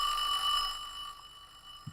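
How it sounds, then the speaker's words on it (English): Electric division bells ring continuously in a parliamentary chamber during a debate, a steady near metallic ringing that fades toward the end. "Turn down that stupid ringing."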